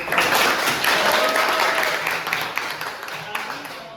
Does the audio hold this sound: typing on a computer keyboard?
no